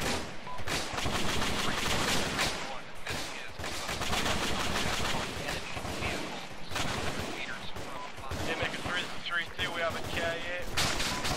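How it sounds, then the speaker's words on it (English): Dense, continuous bursts of gunfire and rapid automatic fire in the video game Arma 3 fill the scene, loud and chaotic, with voices shouting faintly underneath. "I cannot hear over the gunfire"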